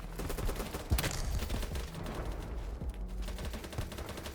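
Rapid gunfire in the video game BattleBit, repeated sharp shots and bursts over a busy game soundscape, with one loud close report early on and steady firing throughout.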